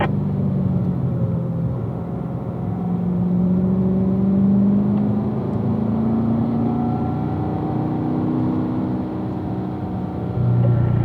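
A car accelerates through a curve on a racetrack at a driving school, its engine giving a steady, loud drone that rises in pitch and holds throughout, with no talk.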